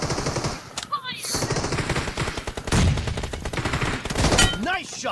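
Rapid video game gunfire crackles in bursts of automatic shots, fairly close and punchy, with a player's voice talking intermittently over the shooting.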